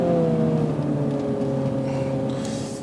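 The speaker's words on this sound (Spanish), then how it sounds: "el cambio, de verdad, sobre todo a la hora de bajar, no tanto al subir de marchas, pero a la hora de bajar sí que es algo lento" A 306 hp 2020 Mini GP revs its engine through a slow gearbox downshift, a loud, close, steady drone that shifts in pitch and eases off toward the end.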